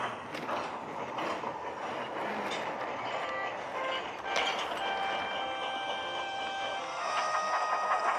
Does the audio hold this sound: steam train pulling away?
yes